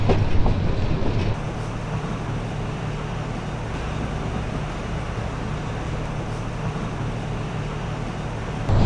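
The Silk City express on the Rajshahi–Dhaka line passes close by as a continuous loud rolling roar with a faint clickety-clack, steady from start to end with no voices.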